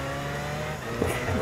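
A rare car's engine revving in Gran Turismo 5, a steady humming drone with a brief rise in pitch near the end and faint tire noise.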